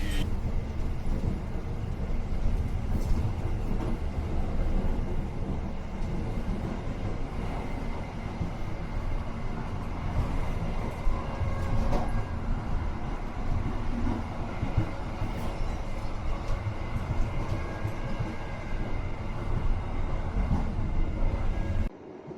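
A passenger train on the cliffside rail line to Siantar, recorded from the vestibule between carriages: a steady, loud rumble of wheels and car body with continuous rattling and clatter throughout.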